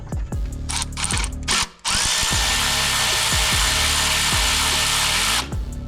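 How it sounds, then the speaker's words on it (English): An electric ratchet wrench with a 12 mm socket loosens a bolt on a Toyota Corolla's alternator, giving two loud, close whirring runs with rapid ratcheting clicks and a short pause between them. "Now I'm gonna go ahead and loosen this up."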